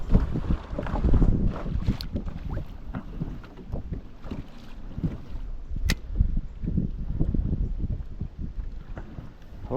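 Wind buffets a drifting fishing boat on a lake in steady, rumbling gusts that roar into the microphone, with faint water slaps against the hull underneath.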